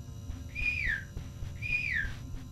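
Two rising-then-falling whistles, each about half a second long, are made by a player signalling their position in a Backrooms-style horror video game. A low rumble of game ambience runs underneath.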